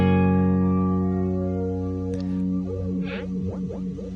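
A clean guitar chord rings and decays, then a Glou-Glou Flancher 9 flanger effect sets in, its swirling, whooshing pitch wobble speeding up as the speed knob is turned.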